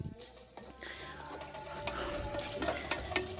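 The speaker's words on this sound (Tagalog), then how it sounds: "Ngayon naman maglalagay tayo ng patis" Fish sauce going into beef bones cooking in a pan, with steady stirring and sizzling, small scrapes and splashes building slightly louder toward the end.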